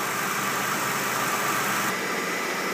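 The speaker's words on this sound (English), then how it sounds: "Engine's running nice and smooth." A Hyundai car engine idles right after a spark plug change, giving a steady, even hum with no revving throughout.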